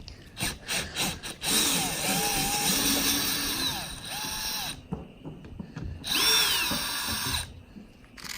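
A power drill whirs in several bursts, its pitch rising and falling as screws are driven out of an outboard motor mounting on a boat transom, loud and close, with short pauses between runs.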